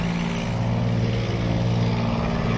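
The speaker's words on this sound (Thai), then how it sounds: "เรือหางยาว" A steady, droning long-tail boat engine rumbles continuously with a strong low hum, close by and fairly loud, with no voices.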